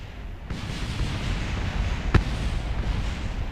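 Aircraft weapons fire in a video game plane build, a steady dense roar of rapid shots with one sharp louder blast just past the midpoint.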